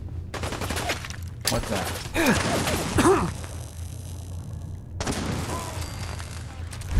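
Pulse grenades blast one after another in a Fallout 4 firefight, loud bursts with crackling electric sweeps through a noisy combat mix, a voice briefly speaking at the start.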